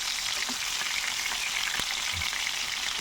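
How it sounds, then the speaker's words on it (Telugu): Stuffed brinjals frying in hot oil in a covered pan, a steady dense sizzle with occasional small pops, close and continuous with no talking. "ఈ విధంగా మొత్తం అన్నీ ఫ్రై చేసేసుకోవాలి"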